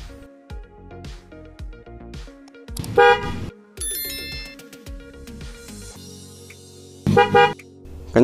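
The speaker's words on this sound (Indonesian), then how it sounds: "kita akan coba untuk menyalakan klaksonnya" Snail-type horn fitted to a Honda Beat motorbike with a relay, a series of loud, close honks in short and longer blasts separated by pauses.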